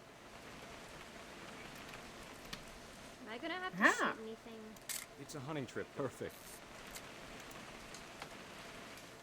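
Steady rain hiss in the video game What Remains of Edith Finch, a soft constant patter running throughout while people talk over it partway.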